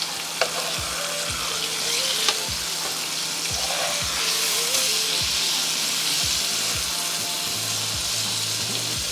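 An Angus beef steak burger patty, just flipped, sizzles steadily in a hot pan, a dense continuous crackle with a regular low thumping underneath and no talking.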